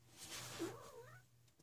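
A single drawn-out cat meow, close and fairly quiet, rising and then sliding down, over a low steady hum in an indoor room.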